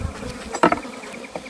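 Honeybees buzzing at an opened hive during an inspection, a close, steady insect hum with a brief louder burst as bees pass near.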